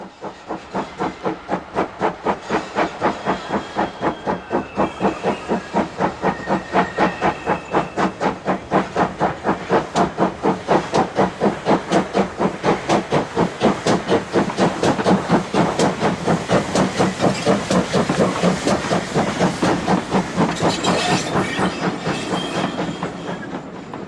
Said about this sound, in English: The engine is an example of the express locomotives of the early part of the century